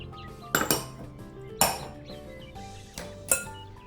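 Dry flour, baking powder and salt being stirred in a bowl, heard as a handful of sharp clinks of a utensil against the bowl spaced over a few seconds, with quieter scraping between.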